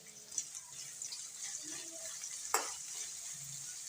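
Onions frying with salt in a pan, a quiet, even sizzle close by with light stirring clinks and one sharp scrape midway, no talk.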